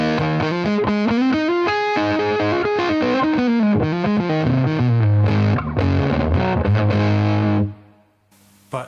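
Electric guitar through a Zander Circuitry American Geek pedal at setting 6, with no clipping diodes, plays a loud, fat, fairly clean-edged phrase of single notes and chords for several seconds, then stops. No one speaks.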